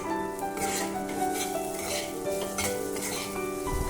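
Spices, including red chilli chutney, being stirred and mixed in a hot pan for a bitter gourd curry, giving a steady close sizzle with scraping stir sounds throughout and no talk.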